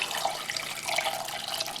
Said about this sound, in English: we're going to take our solution of slaked lime water, and we're just going to pour this right over top.